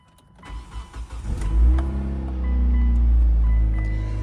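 A Hyundai Santa Fe with a check engine light cranks and catches, a few clicks and whirs giving way to the engine firing up and settling into a loud, steady idle close by.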